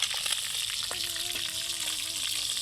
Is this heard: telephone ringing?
no